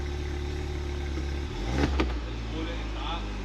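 A track-ready Mini Cooper engine, fitted with a decat pipe and leaking exhaust at the gasket, idles with a steady low rumble, and a brief louder puffing surge comes midway.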